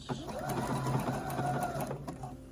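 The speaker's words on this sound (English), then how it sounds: "You can just sew however you want to sew. Okay, now back stitch" A sewing machine runs steadily while back stitching fabric, a close, continuous mechanical whir with a faint rhythmic needle tick lasting a couple of seconds.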